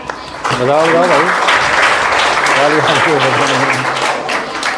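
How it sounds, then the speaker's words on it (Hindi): Audience applause at a village general-knowledge competition, a full burst of clapping starting abruptly and holding steady, with a voice speaking over it in places. "तालियां बजाकर मेरा हौसला बढ़ाएं"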